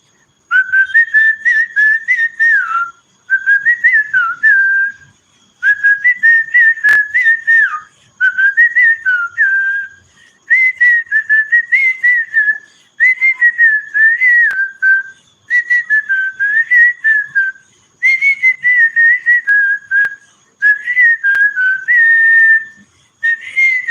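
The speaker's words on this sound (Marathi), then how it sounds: "शिट्टी पण वाजवतो आपण भारी एकदम मस्त वाटली" A person whistles a melodic tune in a steady series of phrases with short pauses between, clear and close with no talking.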